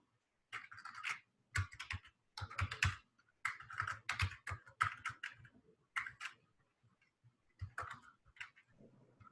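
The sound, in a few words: typing on a computer keyboard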